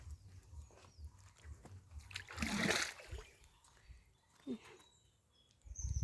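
Bare feet splash in pond water outdoors, with one clear close splash in the middle and softer sloshes before and after, all fairly quiet.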